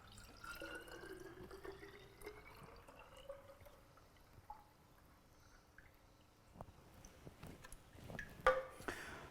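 Pecan nut milk strained in a juicer is poured out, heard as faint, quiet trickling with scattered soft drips and a few small clinks, close by and without talk.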